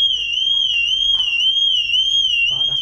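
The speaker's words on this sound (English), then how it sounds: "Set the alarm off, bro." Alarm blaring inside a large waterpark at night, a loud, continuous high-pitched electronic tone with a slight warble, steady throughout, with faint movement and a brief murmur near the end.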